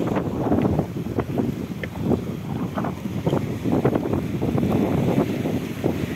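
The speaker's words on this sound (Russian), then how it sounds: "Ветер теплый-теплый с моря" Gusty warm sea wind buffets the microphone on the Black Sea coast at Novomikhailovsky, Tuapse district, with a constant low roar that rises and falls throughout.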